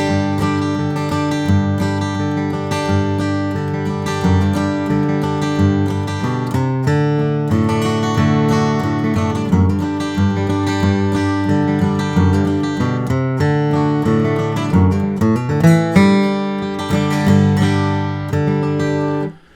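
Bluegrass rhythm guitar playing a strummed lick alone. Steady, ringing chord strums are mixed with bass-note runs at an even, driving pace, close and clear.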